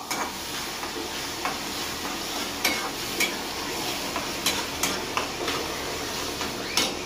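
Onion and tomato cooking down in a pan for a dried bombil (Bombay duck) masala, soft continuous sizzle broken by a series of light spoon taps and scrapes against the pan, close and steady, with no talking.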